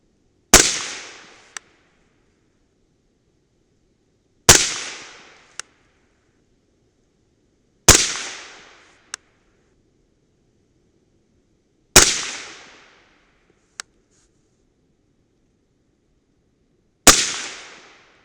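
A 300 BLK rifle firing Rainier Wedge bullets on an outdoor range, five sharp loud shots spaced a few seconds apart, each with a short decaying echo and a faint metallic clink after it, no talking.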